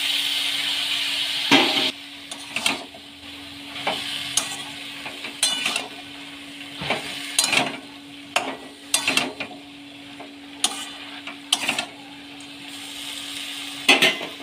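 Soaked pumpkin greens go into a hot pan of oil and spices and fry with a soft sizzle beneath repeated scraping and clinking of a spatula against the pan, close by, with no voices.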